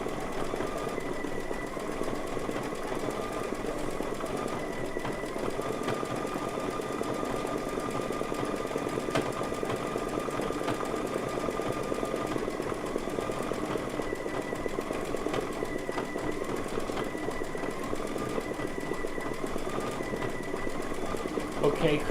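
A sewing machine stitches a quilt block, a steady, continuous mechanical whir with a fine rapid rhythm that carries on for the whole stretch, fairly close, with faint speech at times.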